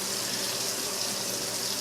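Water runs steadily from a bathroom tap during an at-home facial cleanse, a constant close hiss with no voices.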